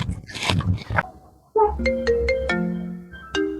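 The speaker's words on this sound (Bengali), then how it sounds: "এই সময় আবার কে ফোন করলো" A phone ringtone plays a bright melodic tune of a few quick notes, loud and close, right after speech stops.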